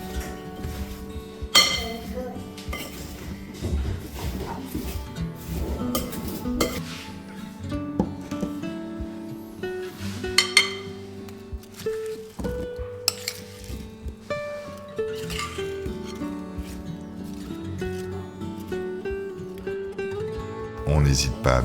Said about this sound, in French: On mélange tout ça avec les pommes, ce qui va donner un sirop qui va les enrober